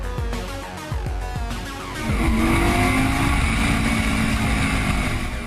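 An Audi R8 4.2 FSI sports car drives through curves, the engine note swelling from a passing rev into a loud, sustained high-revving roar with a faint tire squeal.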